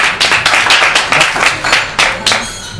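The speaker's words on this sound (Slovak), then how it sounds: "Môžete v potleskoch pokračovať." An audience at a BMW xDrive Polo on Snow press event claps steadily, close and lively, with uneven individual hand claps forming continuous applause.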